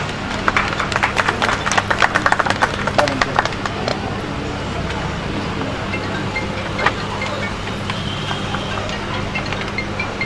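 An audience claps for contestants at a Mahashivratri fruit festival and cooking competition in Sangli: scattered, crackling applause that is strongest early, then fades into crowd murmur and ambient noise.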